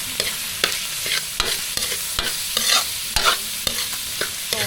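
Ground meat is stirred in cooking oil in a pan, with repeated sharp scrapes and spatula knocks over a steady sizzle, close and clear, with no talk.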